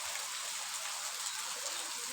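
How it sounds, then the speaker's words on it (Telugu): A heavy downpour keeps up an unbroken, loud wash of hissing rain on surfaces, steady throughout with no voices. "ఇలా వర్షం చూడండి ఫ్రెండ్స్"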